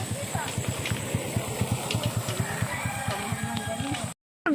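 A motorcycle engine putters with a rapid, regular low pulse close by, holding steady under people talking, before a brief dropout at the end.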